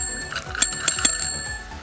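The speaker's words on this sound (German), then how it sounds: "Schaut mal, das noch ist nämlich mal eine Klingel." A toy bicycle bell, unwrapped as a child's birthday present, rings in a quick series of bright, metallic dings. It sounds close and clear, with no speech.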